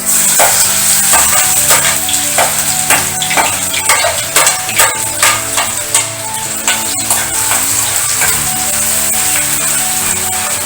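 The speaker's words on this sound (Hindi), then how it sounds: "अब मैं इसमें डालूंगी कटा हुआ प्याज" Chopped onion fries with a steady, loud sizzle in a pan with whole shahi jeera for palak paneer, while a spoon stirs and scrapes repeatedly throughout, with no talking.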